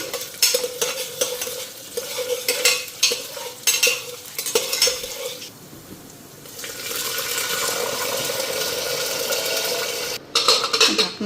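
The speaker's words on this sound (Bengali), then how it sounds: "শুকনো লঙ্কা জিরা নিয়ে নিলাম এদিকে ডালটাও দিয়ে দিলাম" Dried chili, cumin and lentils sizzle and fry in a pan, with repeated scraping stirs at the start, then a steady loud hiss of frying.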